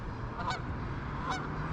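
Geese honking twice, a pair of distant calls spaced about a second apart over steady outdoor background noise beside a creek while fishing, with no talk.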